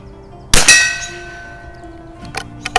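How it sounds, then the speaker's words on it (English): A sharp metallic clang of a bullet hitting a steel gong, ringing and fading, followed by a few fainter distant pings. "Just a ton of fun, shooting that gong."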